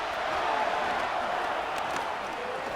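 A virtual stadium crowd in Madden NFL 25 roars steadily and loudly through a Panthers at Packers wildcard playoff game as the offense lines up for third down, a continuous wash of cheering with no breaks.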